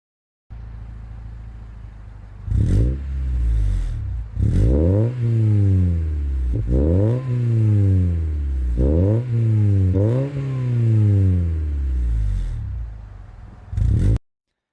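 A Honda car engine revs repeatedly from idle, each blip climbing sharply in pitch then falling back, about five strong rises in a row at close range, with a final short rev at the end.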